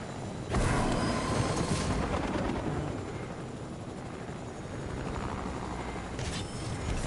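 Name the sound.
helicopter in a video game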